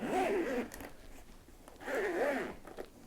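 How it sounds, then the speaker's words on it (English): A zipper on a plastic carry case for an Xbox Elite Series 2 controller runs in two separate pulls, close and moderately loud, with soft handling noises between them and no talking. "Nice zip up action there."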